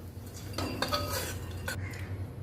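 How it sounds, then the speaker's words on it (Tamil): Sunflower and pumpkin seeds dry-roast in a pan, giving a steady close-up scraping and light rattling with a few brighter clinks over a low background hum. "சூரியகாந்தி சீடு, பம்கின் சீடு ரெண்டுத்தையும் இந்த மாதிரி போட்டு ஒரு வறுத்துடலாம்."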